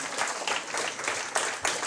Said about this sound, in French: On peut les applaudir quand même pendant qu'ils viennent sur la scène